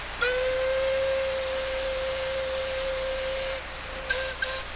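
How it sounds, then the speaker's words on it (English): A generic Caledonian Railway steam locomotive hooter in Train Simulator 2018 blows one long, steady, shrill tone with a hissy edge, then two short toots follow after a brief pause. "Generic Caledonian Railway Hooter"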